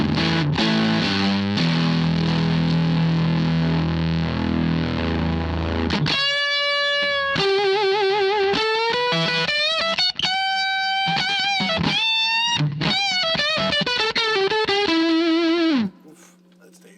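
A Gluttonous Fuzz guitar pedal with its controls turned all the way up drives an electric guitar into thick, saturated fuzz, with loud strummed chords giving way to sustained, distorted single notes and bends before the sound cuts off.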